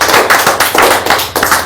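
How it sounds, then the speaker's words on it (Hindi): Loud, close applause from a seminar audience in Sunder Nagar, Himachal Pradesh: a dense burst of hand claps lasting the whole stretch, with no voices over it. "एक बार जोरदार तालियां इनको होना चाहिए।"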